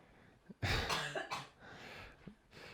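Someone coughs several times close up, a harsh burst followed by a few shorter throaty coughs and a throat clear, with breathing between.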